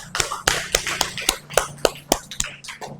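Applause in a primary school classroom, a run of sharp, sparse claps at an uneven rhythm, fairly close, with a few hands clapping rather than a full crowd.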